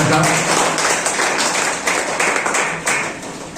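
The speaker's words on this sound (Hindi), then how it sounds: "जोरदार तालियों से स्वागत कीजिए।" Applause at a Teacher's Day school gathering, a crowd of children clapping in welcome; dense, fairly loud clapping that slowly thins out across the few seconds.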